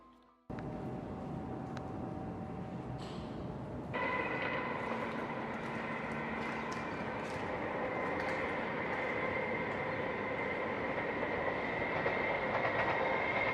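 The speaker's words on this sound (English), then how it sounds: "There goes the train." A train rumbles past near an abandoned glass factory, a steady loud roll with a rising metallic whine and clatter that swells after a few seconds and holds to the end.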